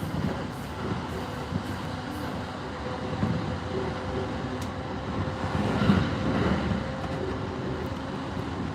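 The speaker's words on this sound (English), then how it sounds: "This is not a Shinkansen, but it moves pretty frickin' fast, man." A fast Tobu line commuter train running between Ikebukuro and Kumagaya in Japan, heard from inside as a steady rumbling roar of wheels and motors, close and continuous, with no talking.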